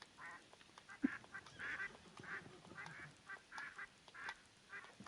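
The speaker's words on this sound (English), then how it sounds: "The ducks are going crazy." Ducks quack repeatedly in the Fishing Planet game, a series of short nasal calls in an uneven rhythm, faint and somewhat distant over quiet ambient background.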